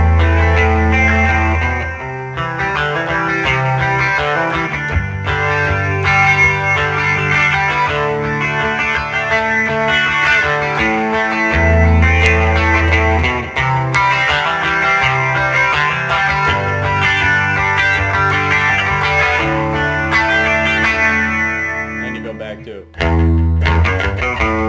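Electric guitar through effects, with distortion and chorus, plays the bridge of a song. Full chords ring over a steady pulse, loud and close, and the playing stops briefly near the end before starting again.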